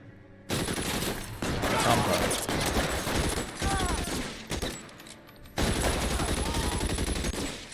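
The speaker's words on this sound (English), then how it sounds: "got a Tommy gun" Tommy gun fire in the video game L.A. Noire, with rapid automatic bursts rattling in long stretches broken by brief pauses, loud and close, as voices talk over the shooting.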